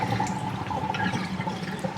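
Organic mushrooms soaking and being washed in a bowl of water, with a steady close sloshing and trickling of liquid that continues without a break and no talking.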